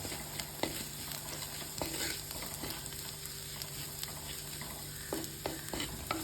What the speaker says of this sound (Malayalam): ചെറിയുള്ളി ഒരു ബ്രൗണിഷ് കളർ ഒരു ഗോൾഡൻ ബ്രൗണിഷ് കളർ ആകുമ്പോൾ നമുക്കതിലേക്ക് മഞ്ഞൾപ്പൊടി മുളക് പൊടി ഉപ്പ് എന്നിവ ചേർത്ത് നന്നായിട്ടൊന്ന് മിക്സ് ചെയ്തെടുക്കാം